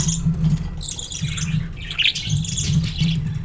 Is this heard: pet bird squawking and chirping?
yes